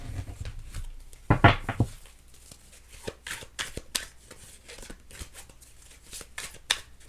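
Tarot cards are shuffled by hand in a quick riffling burst, then handled with soft scattered slaps and flicks close to the microphone.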